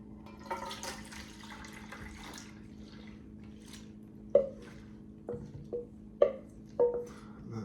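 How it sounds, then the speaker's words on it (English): A few wet squelching plops and slurping splats as a retro salad mixture is poured into a loaf pan, close and fairly soft, spaced irregularly after a quiet stretch. "now we pour it into a loaf pan"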